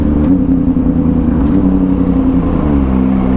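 Kawasaki ZX25R motorcycle engine held at steady, loud mid-pitched drone at low speed while downshifting, with slight pitch drops as gears change, no voices.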